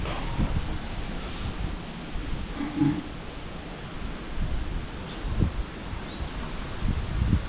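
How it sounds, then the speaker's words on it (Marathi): A strong, cold early-morning wind blows steadily at a homestay, roaring and buffeting the microphone continuously with gusty swells and no voices. "सकाळीपासून सहा जी हवा सुटलेली असते ती दहा अकरापर्यंत हवा आहे आणि ही हवा थंड आहे"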